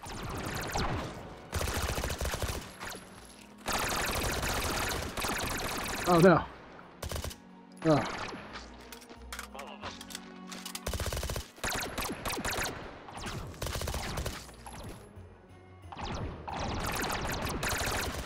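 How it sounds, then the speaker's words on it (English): Many guns fire at once in the VR shooter Hot Dogs, Horseshoes & Hand Grenades during a holiday Meatmas event, with dense rapid bursts and loud volleys broken by brief pauses and mechanical clicks, and a man exclaims briefly. "I can't hear myself over the sound of guns firing."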